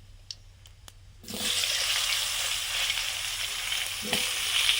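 Panch phoron spices and turmeric hit hot mustard oil in a pan after a few faint clicks. A sudden loud, hissing sizzle follows and carries on steadily at close range with no speech.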